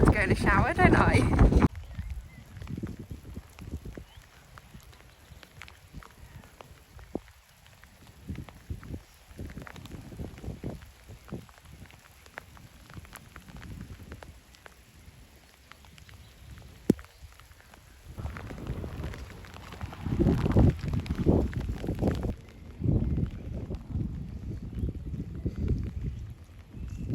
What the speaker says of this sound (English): it is like horizontal, sideways, torrential rain